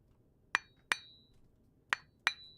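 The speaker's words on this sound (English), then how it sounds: "Some hammering." Four sharp metallic hammer strikes in two pairs, each ringing briefly with a clink, close and clear against a quiet background.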